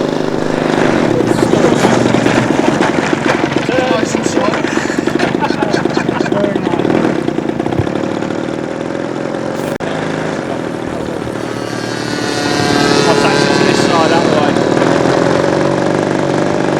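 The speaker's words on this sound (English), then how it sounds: "the big Heinkel approaches from over the hangars here at Sleap for the final landing of the day" A big radio-controlled model Heinkel warbird drones in to land over the hangars at Sleap airfield, a steady buzzing propeller engine that dips briefly and swells again, while someone narrates over it.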